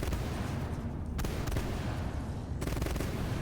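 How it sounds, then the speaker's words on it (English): Heavy ballistic cannons on a support ship in the space combat game Fractured Space, firing as a dense, continuous rumbling barrage with sharp bursts of louder volleys breaking through at intervals. "Those guns sound awesome, though."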